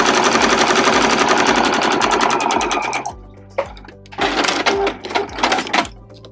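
A sewing machine stitching a zipper pouch sewn from fabric scraps, with rapid loud needle clatter in a sustained run, then a brief pause and shorter bursts as the presser foot is lifted and lowered between passes.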